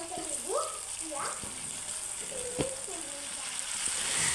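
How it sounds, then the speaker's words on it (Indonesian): Ground spice paste sautéed in oil in a wok for a simple meal, a steady close sizzle with scraping stirs, someone talking over the cooking. "kita tumis bumbu halus yang tadi ya"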